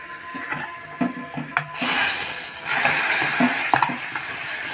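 Asafoetida and dried red chilli hit hot oil for a tempering, starting with a few stirs and taps, then bursting into a loud, steady sizzle with crackles that continues to the end, no talking over it.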